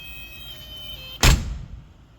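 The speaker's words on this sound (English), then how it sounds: "you hear that buzzer? That says that there's an open door." The open-door warning buzzer of a Porsche 914 drones as a thin, steady tone for about a second, then gives way to a single sharp clunk and quiet.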